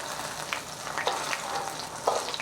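Chicken katsu fries in a pan with a quiet, steady sizzle and a few soft taps and scrapes, heard close with no talk.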